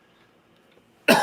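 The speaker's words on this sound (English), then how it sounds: "Still fighting that cough off." After near silence, a single sharp, loud cough bursts out close by at the very end.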